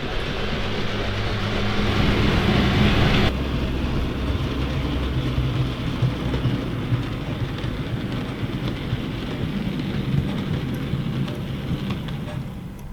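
A Rapido OO gauge J70 model locomotive, LNER No.7139, with a tiny wheelbase, runs over points with a continuous close whirring rumble and faint clicking that shifts partway through, with no voices.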